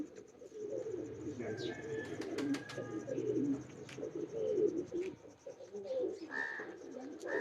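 Teddy and other pigeons coo in low, throaty repeated calls, with soft chirps and scattered clicks nearby, while someone talks over them.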